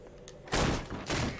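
Gunfire from the crime game L.A. Noire, two loud broadband bursts close together after a quiet lead-in, heard alone without talk.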